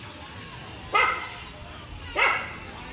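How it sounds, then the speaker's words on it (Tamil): A dog barks twice from below the home, two separate barks about a second apart, moderately loud over a faint outdoor street background. "பக்கத்தில் கீழே ஜூலி கத்துறா"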